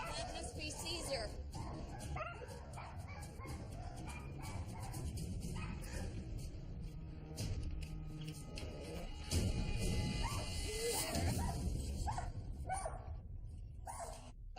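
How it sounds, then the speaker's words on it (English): Pet poodles, known for biting a delivery man, rush to the door barking and yipping at a visitor, their barks close and repeated over a busy background of voices and movement. "the poodles came running and barking"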